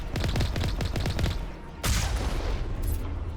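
Rapid automatic gunfire in Mass Effect crackles in a dense, close burst, then breaks off before a heavy boom hits and a rumble lingers.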